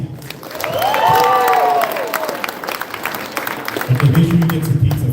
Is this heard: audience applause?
yes